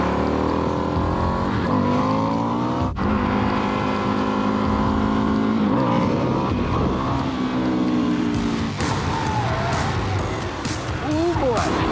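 An Indian FTR 1200 motorcycle engine drones loud and close while riding on the road, holding a steady tone with pitch sweeps as revs change, wind rush over it and a rider talking over the engine.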